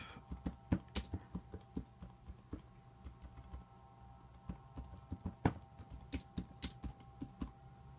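Rapid typing on a computer keyboard, a steady patter of close, crisp key clicks with a few louder strikes, over a faint background hum.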